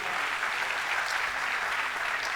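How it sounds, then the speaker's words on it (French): An audience at an Africa Web Festival session applauds Madame Diawara, the festival's founder, with an even, unbroken wash of clapping from many hands, moderately loud and slightly distant. "Vous pouvez l'applaudir."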